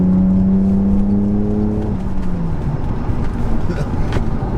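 A BMW 850i 8 Series engine hums and whirs loudly as the car pulls out of a yard onto a pothole-strewn road, a steady falling tone over rumbling road noise throughout.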